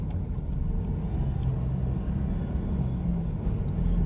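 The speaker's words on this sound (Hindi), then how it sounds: "यहाँ लग गया जाम" Road traffic jam on a Delhi street after a collision between a taxi and a private car, a steady low rumble of idling and slowly moving vehicles with faint scattered honks in the background.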